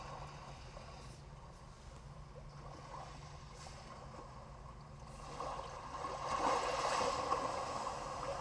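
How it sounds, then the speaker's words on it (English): A calm sea waves nature soundscape plays from the audio system of a 2021 Kia K5, a low steady wash of water that swells slightly louder toward the end, with no talking. "Calm sea waves."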